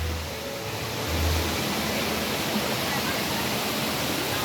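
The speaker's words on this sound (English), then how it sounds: "That's an awesome shot of the water fountain." A water fountain at Kings Dominion amusement park splashes in a steady, broad rush of falling water, loud and continuous, with a low rumble swelling briefly early on.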